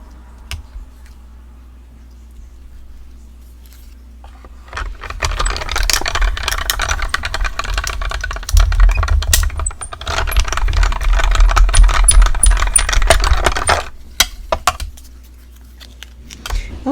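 A die cutting machine runs stacked cutting plates through for a craft project, giving a loud continuous grinding rattle for several seconds after quiet handling, then stopping.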